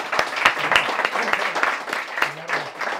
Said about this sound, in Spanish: ya un aplauso, por favor